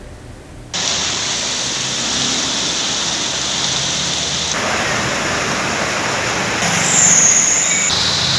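Heavy monsoon rain pours steadily onto a flooded road in Panjim, Goa, where water has risen knee-deep, giving a dense, loud, continuous hiss that swells slightly near the end, with no voices.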